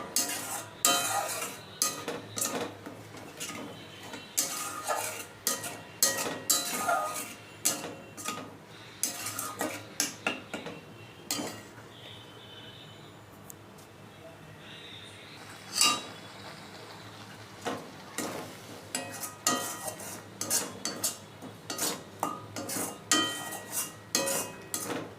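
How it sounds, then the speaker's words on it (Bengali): Watermelon and milk powder being stirred in a pan, with a spoon scraping and clinking against the metal in quick, irregular strokes that keep going at close range, no voices over it. "এবার ভালো করে তরমুজের সাথে পাউডার দুধটা ভালো করে মিশিয়ে নেব"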